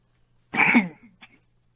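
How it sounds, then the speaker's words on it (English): A single short cough from a caller on a phone-in round table, one harsh burst followed by a faint trailing throat sound, close and isolated against near silence. "I coughed and I said sorry"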